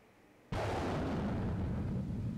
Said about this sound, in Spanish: Una explosión sacude la tierra.